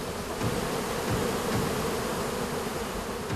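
Bees swarm and buzz steadily around a wild honeybee hive on a remote island, a dense continuous drone close to the listener with no talking.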